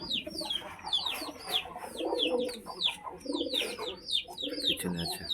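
Pigeons coo in low, repeated rolling calls from a loft, close by, with busy high chirps from other birds overlapping throughout.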